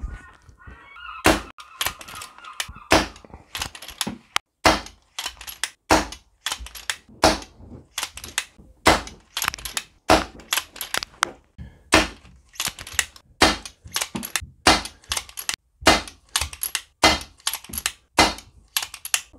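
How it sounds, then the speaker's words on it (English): A Brocock Ranger XR air rifle set to medium power fires a long series of sharp, crisp shots spaced about a second apart, close and loud against near silence, with faint clicks of the action between some shots. "so I'll repeat this exercise with the rifle on medium power"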